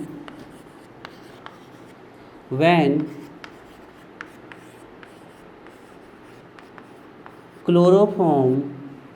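Small, faint tapping and scratching of writing on a board during a chemistry lecture, scattered through the clip, with two short bursts of a teacher's voice.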